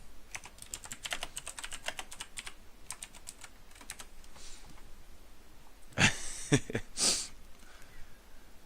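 Rapid bursts of computer keyboard typing, close and crisp, in fast clustered clicks with pauses, followed by a couple of louder sniffing or breathy sounds.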